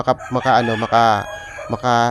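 A Red Kelso stag chicken being held makes several loud, close crowing and clucking calls in quick bursts, alone without talking.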